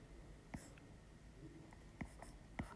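Pen strokes on paper during a math lesson, a few faint, brief scratches spaced apart over quiet room tone, with no speech.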